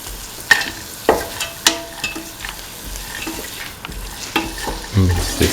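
A spoon scrapes and knocks through split chickpeas in a frying potato mixture, with a steady sizzle underneath and periodic sharp clinks against the pan, close and clear, no talking.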